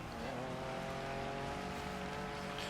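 Race cars in GRID Legends drone through a corner together, a steady layered engine roar with sustained tonal whine, continuous and moderately distant.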